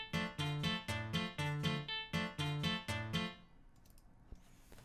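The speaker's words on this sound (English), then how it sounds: "the rhythm guitar is going to do this" Bachata rhythm guitar (segunda) picking the remaining chord notes on the off counts: a steady, bright, repeating pattern of short plucked chords, close and clear, running about three seconds before stopping and leaving near-silence.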